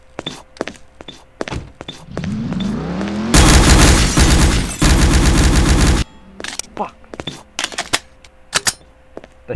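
Gunfire in a roleplay shooter video game with a sniper on the scene: a dense, loud burst of rapid shots lasts about three seconds, framed by scattered sharp clicks and thuds before and after.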